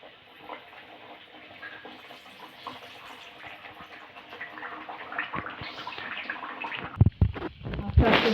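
Nimki made from maida dough fries in hot white oil in a heated kadai, giving a steady hissing sizzle that grows busier and louder, with a few sharp clatters near the end.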